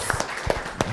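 Scattered hand claps from a small audience at a lecture on water security under climate change, a few sharp claps over a dense, noisy background.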